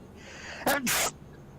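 A single loud, close sneeze with a sharp first burst and a longer second rush, standing out over a low steady room hum, with no talking.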